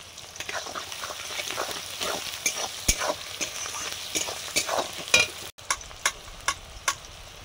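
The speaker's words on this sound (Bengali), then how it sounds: "পেঁয়াজগুলো ছোটো ছোটো পেঁয়াজ, আমাদের পেঁয়াজের কলি খাওয়ার জন্য লাগানো হয়েছে, সেইগুলো ছিল, ওগুলো রান্না করে নিচ্ছি।" Small onions fry and sizzle in a pan with repeated stirring scrapes, steady crackle throughout, close and moderately loud, with no talk.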